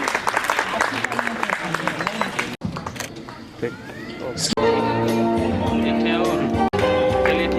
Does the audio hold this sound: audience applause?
yes